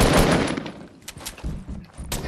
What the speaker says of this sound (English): He's coming down with the shotgun, you hear it?